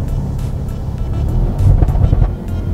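A tuned Audi RS6 making about 950 horsepower pulls hard from second gear, a dense low engine roar rising in loudness partway through with wind rush, no talk over it.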